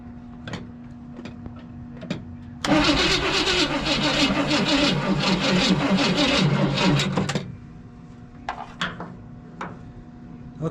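A 35-year-old Chevy engine with a leaking fuel filter cranks loudly for about four and a half seconds without catching, then stops, leaving scattered quiet clicks and handling noises before and after.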